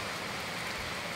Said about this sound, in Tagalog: hindi ako makalabas, talagang sobrang lakas ng ulan